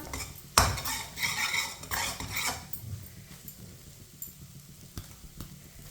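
Eggs are stirred with a spoon in a pan over medium heat: soft scraping strokes and metal clinks in uneven rhythm over a faint sizzle, close and fairly quiet.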